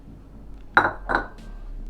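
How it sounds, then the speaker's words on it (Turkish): Powdered sugar and other dry ingredients for macaron cookies tumble into a bowl in two quick clinking thuds close by, with no talking. "tüm malzemelerimizi döküyoruz. Pudra şekeri."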